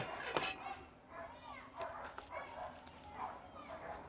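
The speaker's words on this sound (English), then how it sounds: "You might hear my neighbors in the back. The dogs are out playing." Neighbors' dogs playing outside in a backyard bark and yip at a distance, a string of short calls running under nearby conversation.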